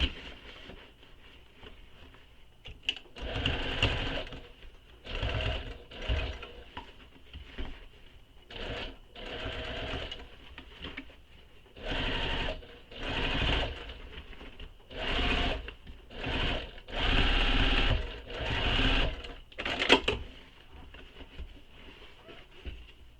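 A sewing machine stitches along the side of a bag in repeated short bursts of rapid mechanical whirring, with brief pauses between runs, close and fairly quiet.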